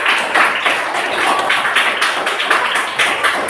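A classroom group claps hands after a student's movement demonstration in a physical education lesson, a dense, steady patter of many hands close by, sustained throughout without talk.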